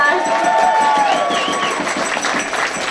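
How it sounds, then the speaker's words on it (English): Crowd applause at a women's football grand final, a steady wash of clapping with cheering from a large outdoor crowd, continuous and fairly near, with a speaker's voice carrying over it. "Big claps to the crowd."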